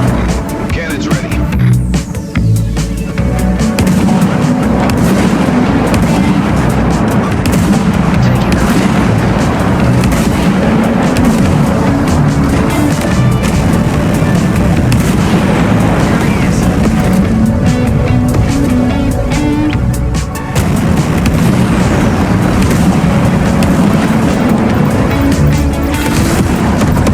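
Spaceship cannon blasts in the space combat game Everspace 2, loud booming shots over a dense, continuous wash of engine rumble, game music and effects, with people talking over the action.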